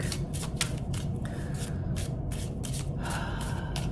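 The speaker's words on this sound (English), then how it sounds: "Then you're going to shuffle your deck," Papery riffling bursts repeat several times as a deck of cards is shuffled close by, with a steady low rumble underneath.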